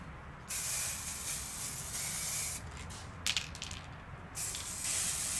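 Aerosol matte varnish sprayed onto a wargaming terrain model: steady close hissing bursts from the can, one long spray, a brief broken stretch of short puffs, then another sustained hiss.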